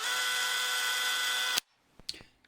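A power drill bores a hole through a plastic camera body cap, a loud steady high whine that cuts off abruptly after about a second and a half, followed by a few faint clicks and handling taps.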